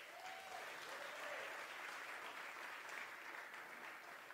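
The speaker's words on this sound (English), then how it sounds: "So we welcome her to the stage with a big round of applause." An audience breaks into steady applause to welcome a singer and pianist to the stage at a digital performance, a continuous soft wash of clapping heard from some distance, with a faint voice drifting in at the start.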